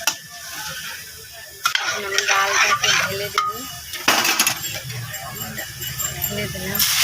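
Cooked dal (lentils) is poured into a hot pan with onion and chilli, giving a sudden splashing burst followed by crackling sizzle and a second splash, close and fairly loud.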